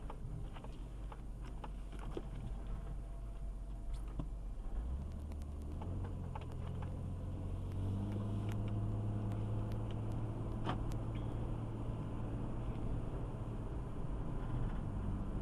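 A caravan's engine runs steadily at idle with a deep, continuous rumble that shifts pitch partway through, as the engine cuts in and out under a suspected electrical or ignition fault.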